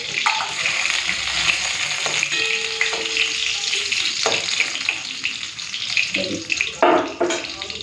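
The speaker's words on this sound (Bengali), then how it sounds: "তেলের মধ্যে ফোড়ন দিচ্ছি কালো সরষে শুকনো লঙ্কা হালকা একটুখানি ভেজে নিই" Steady crackling sizzle of black mustard seeds and dried red chillies frying in hot oil, close and loud, with occasional clinks and stirring scrapes.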